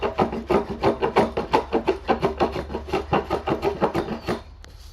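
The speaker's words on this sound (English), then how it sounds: "clean off this epoxy with a plane" Rhythmic rasping strokes of a hand plane shaving epoxy off a wood slab, about a dozen quick back-and-forth passes at close range, with no talking.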